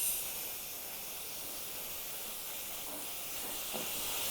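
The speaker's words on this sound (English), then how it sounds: "here's a situation where I like to spray my Finish Line speed degreaser" A Finish Line speed degreaser aerosol can sprays in one steady, continuous hiss for several seconds, fairly loud and close, with no talk over it.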